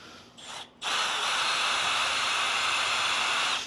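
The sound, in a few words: power drill drilling a hole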